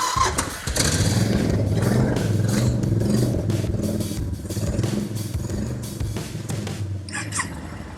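A nearly new Yamaha motorcycle with about 3,000 miles, at a dealership, starts up and settles into a steady, loud, close idle with some mechanical clatter, then quiets slightly near the end.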